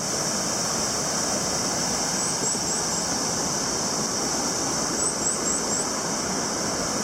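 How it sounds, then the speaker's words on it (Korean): Water rushes in a constant, full roar from a high-flowing mountain stream in a valley on Sobaeksan, with faint repeated bird chirps above it. "자 물소리 새소리 아주 멋집니다"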